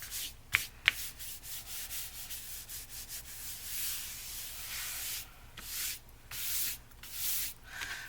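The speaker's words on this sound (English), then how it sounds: "Get that excess glue off of there." Soft, repeated rubbing strokes wipe excess glue off a piano roll, with a couple of sharp clicks early on and gentle hissy swipes coming in uneven bursts.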